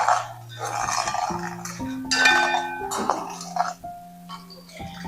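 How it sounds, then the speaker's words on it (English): A utensil stirs sugar syrup and milk in a metal pan, making light clinks and scrapes against the sides. The close taps come in short irregular bursts over a quiet background, with faint tonal sounds beneath. "And give it a stir."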